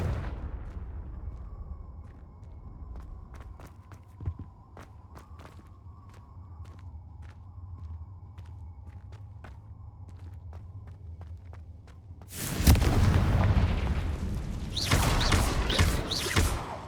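A Confringo fire spell exploding in the fantasy game Hogwarts Legacy, a sudden loud burst after a quiet stretch of soft footsteps and taps, followed by a roaring blast and crackling debris that stays loud to the end.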